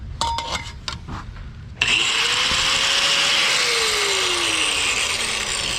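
Power tool cutting a hole into the frame of a 1965 Impala convertible during a frame build: a few short bursts of noise, then a loud continuous whir and grinding whose pitch shifts as the cut progresses.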